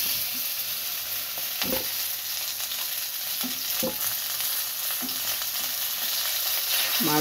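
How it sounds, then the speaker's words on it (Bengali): Rohu fish frying in hot oil for a Bengali fish curry with stem vegetables and potatoes, a steady loud sizzle and crackle with several sharp knocks of a utensil against the pan, close by. "মাছগুলো আমার ভাজা হয়ে গেছে, আমি মাছগুলো তুলে নিচ্ছি।"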